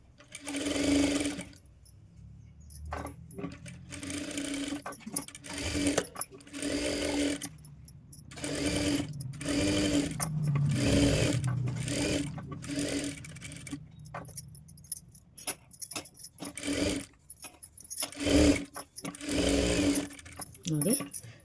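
A sewing machine stitches the back neck of a blouse in short repeated bursts of fast whirring and clatter, stopping and starting between runs as someone talks over it.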